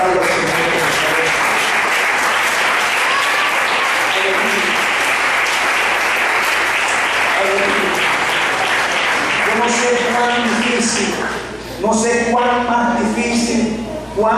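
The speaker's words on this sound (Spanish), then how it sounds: "aplausos al Señor" A church congregation claps loudly and continuously for a long stretch. Voices and shouts of praise rise over the applause near the end.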